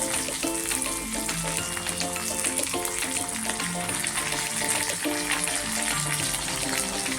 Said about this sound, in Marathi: थोडंसं मी तेल टाकते.